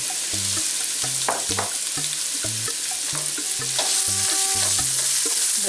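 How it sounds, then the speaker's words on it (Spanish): Chopped onion sizzles and is stirred in a pan for Mexican-style cauliflower rice, a steady bright frying hiss with repeated scraping strokes of the spoon keeping a loose rhythm throughout. "Revolvemos para citronar la cebolla"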